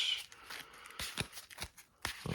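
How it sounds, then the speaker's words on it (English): A Yu-Gi-Oh card deck is shuffled by hand in close, crisp bursts of riffling and slapping cards, with short pauses between the shuffles. "I'm gonna give this deck a few more shuffles and then 1 cut."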